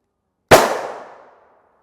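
A single sharp gunshot fired into HWin NIJ Level IIIA soft body armor during a ballistic test, loud and close, with a sudden crack that decays over about a second, no talking.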